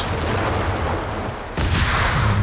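Gunfire and explosions in Company of Heroes 3, a steady wall of dense battle noise with a sudden louder blast partway through, the firing continuing heavily afterward.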